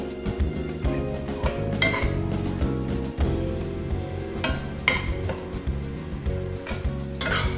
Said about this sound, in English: Now I just threw in the serrano, and I'm going to mix everything very well.